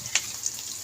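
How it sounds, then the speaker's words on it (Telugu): Onions and green chillies in a tempering for spicy chickpeas fry in a pan, giving a steady close sizzle with a couple of brief crackling pops. "ఇప్పుడు కొంచెం వేగనివ్వాలి."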